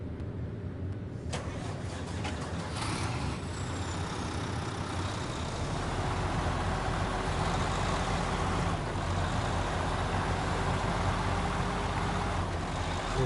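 A long truck in the SnowRunner video game drives steadily, its engine giving a continuous loud rumbling drone with occasional clanks and squeaks, with no talking.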